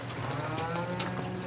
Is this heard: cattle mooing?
yes